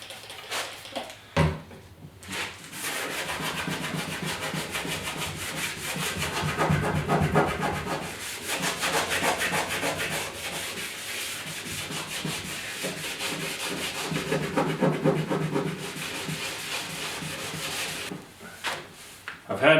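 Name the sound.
scraping caked residue off an old desk with a blade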